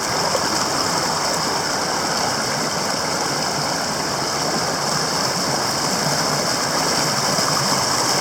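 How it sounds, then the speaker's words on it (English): Continuous rushing of flowing stream water, steady and close, a dense hiss and babble with no voices. "I'm down here by the stream now."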